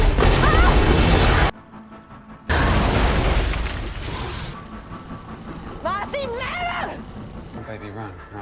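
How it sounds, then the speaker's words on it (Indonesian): A loud, sustained landmine explosion roar with a burst of debris and rumble, then fading into quieter noise as a voice speaks. "alien raksasa yang mengejarnya meledak saat menginjak sebuah"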